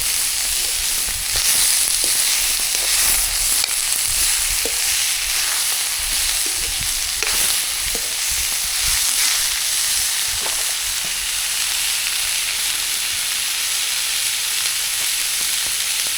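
Radish leaves sizzle and crackle steadily in a hot pan for Punjabi bhurji, a loud continuous frying hiss with occasional stirring scrapes and no voices.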